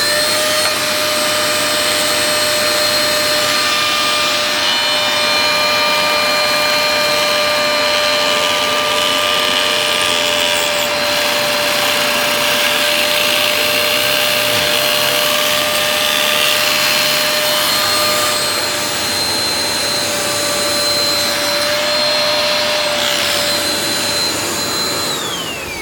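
A Dyson DC03 Absolute+ upright vacuum cleaner, suspected of a failed clutch and an ill-fitting base plate, runs loud and steady with a constant high motor whine and airy rush throughout, no voices.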